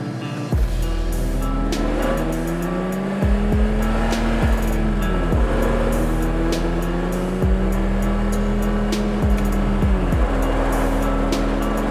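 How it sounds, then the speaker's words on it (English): A BMW E30 drives with its transmission slipping, engine drone rising and falling with sudden pitch jumps as revs flare between gears, loud and continuous throughout with road and wind noise. "See what I mean with the transmission slipping like crazy?"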